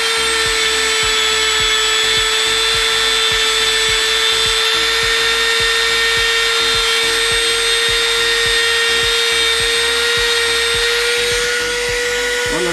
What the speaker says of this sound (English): Now you have the right Dremel tool, because I like one that's multi-speed.